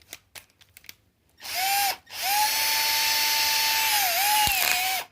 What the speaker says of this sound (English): When you get to a certain point, it will click, click, click on you.